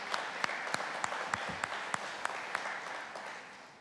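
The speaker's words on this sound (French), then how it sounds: "Je pense que vous pouvez les applaudir parce qu'ils acceptent de s'impliquer." Applause from an audience at a livestock breeders' federation meeting, a steady wash of many hands clapping at moderate distance with a few sharper individual claps standing out, fading slightly toward the end.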